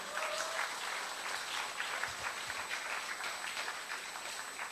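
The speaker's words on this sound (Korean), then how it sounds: "우리 사모님 박수 한번 쳤시다" An audience at a church summer retreat gives a steady, sustained round of applause, many hands clapping evenly from start to finish at moderate distance.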